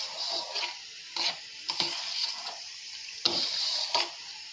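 Vegetables and sugar are stirred in a pan for a winter sweet dish, with a series of spatula strokes scraping and clacking over a faint, steady hiss.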